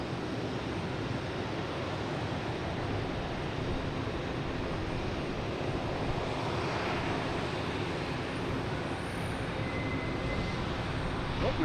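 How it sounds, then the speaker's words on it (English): A United Boeing 737 MAX 9 arriving at Boston Logan from San Francisco, a faint, steady distant jet rumble and hiss that stays even throughout. "these people coming in from San Francisco on United 737 MAX 9"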